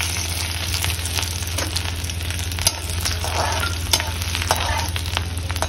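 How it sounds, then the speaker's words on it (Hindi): Chopped garlic frying in a little oil in a kadhai, a steady close sizzle with occasional scraping clicks of a spoon stirring, no voices over it. "सबसे पहले हम कढ़ाई में अपने थोड़ा सा तेल पर इसमें हम कटा हुआ लहसुन डालेंगे।"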